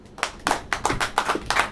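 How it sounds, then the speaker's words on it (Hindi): An audience at a church worship service claps hands together in a steady rhythm, roughly seven sharp claps close by with no talking over them. "जो बढ़ना चाहता है वो ताली बजाए"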